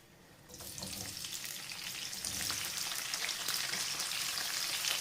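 Chopped onions drop into half a cup of hot oil and burst into a loud, crackling sizzle that keeps building and spitting steadily, close up, with no talk.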